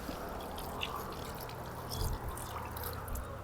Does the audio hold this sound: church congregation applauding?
no